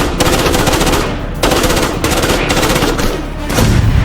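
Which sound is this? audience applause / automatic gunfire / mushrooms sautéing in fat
automatic gunfire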